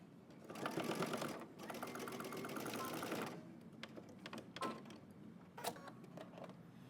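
A sewing machine stitches close to the edge of a dress facing on a Simplicity 8690 Mimi G dress, with one long, fast run followed by several short, stop-start bursts of rhythmic needle clatter.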